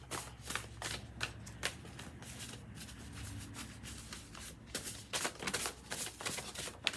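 A deck of message cards being shuffled by hand, with repeated crisp riffling and flicking bursts alongside a soft low hum, close and moderately loud, with no voices.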